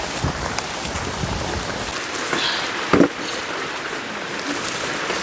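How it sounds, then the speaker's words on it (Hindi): Heavy rain pours down in a jungle, a dense and steady roaring hiss with one brief louder knock near the middle. "जंगल में भयंकर बारिश भी हो रही है"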